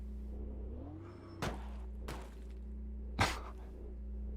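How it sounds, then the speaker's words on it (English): Race car in Automobilista 2 humming steadily with an engine note that rises, broken by three sharp metallic clanks on the upshifts, spaced about a second apart, the last one loudest. "It makes such a weird sound on the upshifts. It's like this clank or something."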